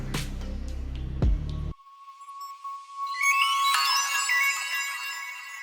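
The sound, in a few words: melodic transition sample from the Producer Grind Cadence kit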